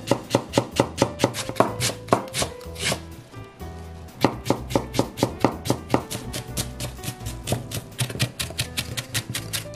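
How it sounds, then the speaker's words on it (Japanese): Rapid knife chopping of a green onion (naga negi) into fine mince on a cutting board, a steady run of sharp, evenly spaced taps with a brief pause midway, close and loud with no talking. "長ネギはみじん切りにしていきます。"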